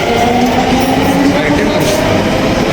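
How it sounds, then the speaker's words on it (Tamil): A metro train in Agra rumbles past close by, a loud steady roar of wheels and motor noise with a faint tonal whine throughout, while people talk faintly underneath. "அதாங்க மெட்ரோ."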